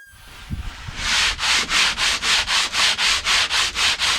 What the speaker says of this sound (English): I had to break out the hand sander